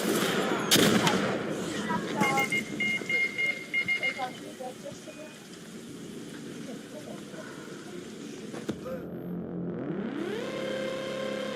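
Gunfire aimed at a Hornet helicopter in GTA San Andreas: a rapid volley of sharp shots in the opening seconds, then engine whir and a rising mechanical tone near the end.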